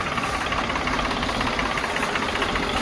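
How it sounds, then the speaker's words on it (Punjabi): A 1984 Swaraj 735 three-cylinder tractor engine idles steadily up close, a constant low rumble with a rapid knocking pulse and no pauses. "ਤਿੰਨ ਸਿਲੰਡਰ ਟਰੈਕਟਰ ਹੈ"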